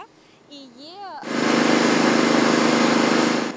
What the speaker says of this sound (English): We wash it with pure water and a high-pressure hose.